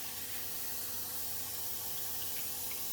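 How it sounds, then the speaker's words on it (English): A tap runs water into a bowl in a home kitchen, a faint, steady hiss and trickle that continues evenly without pause. "now I'm going to fill it with water."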